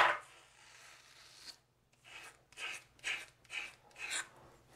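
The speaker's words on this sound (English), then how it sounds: "use short strokes with even but light pressure" Disposable razor shaving a face in short, light strokes: a close, quiet series of about five scratchy rasping sweeps in an even rhythm, with a brief pause before them.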